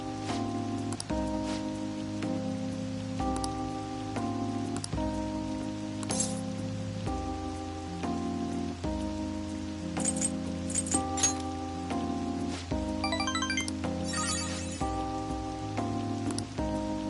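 Steady rain patters on surfaces in the Persona 5 Royal video game, a constant hiss under sustained musical tones, with no talking.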